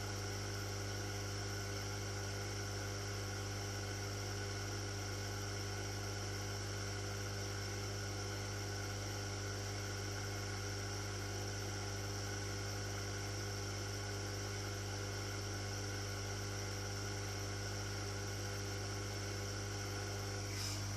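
Hot air rework blower heating an 8-layer circuit board during surface mount device removal, a steady close whooshing hum with a constant tonal drone and no break throughout.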